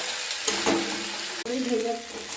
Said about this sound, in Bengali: এবার একটু চালটাকে নাড়াচাড়া করবো